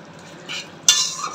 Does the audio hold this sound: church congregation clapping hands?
no